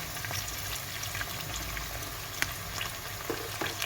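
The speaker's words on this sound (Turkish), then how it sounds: "Şimdi güzelce bir karıştıralım." An eggplant dish seasoned with salt and black pepper sizzles steadily in a pan as it is stirred, with a constant close frying hiss and a few soft clinks, with no talking.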